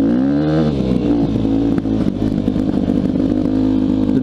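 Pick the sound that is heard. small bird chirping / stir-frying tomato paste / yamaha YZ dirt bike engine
yamaha YZ dirt bike engine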